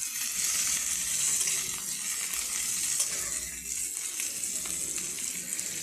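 Ingredients sizzle loudly in a hot pan while a spoon stirs and scrapes through them, a continuous close frying hiss from a Bengali vegetarian spinach dish.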